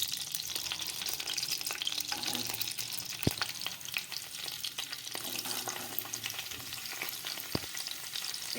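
Finely chopped carrots fry in white oil in a pan for restaurant-style mixed fried rice, giving a steady, soft sizzle with a few sharp clicks of stirring, close by and with no talk.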